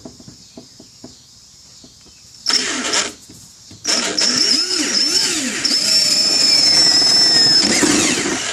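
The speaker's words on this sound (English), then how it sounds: "I'm going to go ahead and drill a hole just beside that one." Drill boring a hole through the plastic flange of a 1995 Toyota Tacoma washer fluid reservoir, starting after soft ticking, with a brief burst, then a sustained high whine, close and loud to the end.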